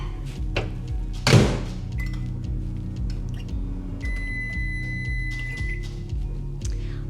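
A microwave oven runs with a steady low hum while heating chocolate chips for another thirty seconds, opening with a loud thunk of the door and ending in a high electronic beep, with no talk.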